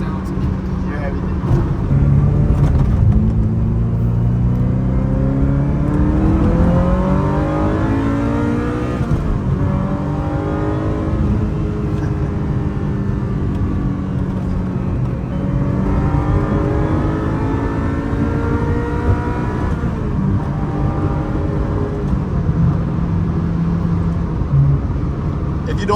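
A car engine revs hard with the roof off and windows down, heard from inside the cabin: a loud, sustained roar rising and falling through repeated throttle sweeps, with people talking over it.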